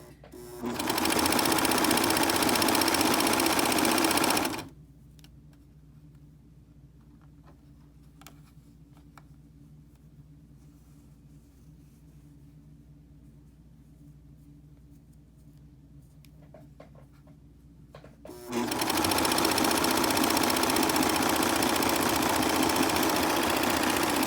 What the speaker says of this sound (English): you'll just sew all the way to the end